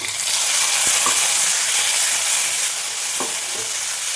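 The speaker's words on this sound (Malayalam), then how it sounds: "തക്കാളി ഒന്ന് വഴന്ന് വരണം." Tomatoes sauté with green chillies in a pan for chickpea kurma, giving a steady, close sizzle and hiss throughout, with a few soft stirring scrapes and knocks.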